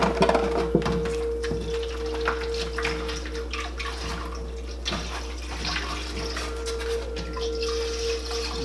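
Water sloshes and rinses continuously around the inside of a container while plant matter from an ayahuasca brew is washed down the sides, a steady low-level splashing with faint drips and no voices.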